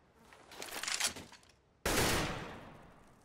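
AK rifle gunfire in CS:GO on the Overpass map: a rattling burst of several shots, then after a short pause a single loud, sharp crack that rings and fades out slowly.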